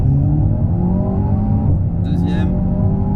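An Alpine A110 Légende GT accelerates hard through the gears, its engine droning loudly and steadily in the cabin with rising harmonics, while someone speaks briefly over it.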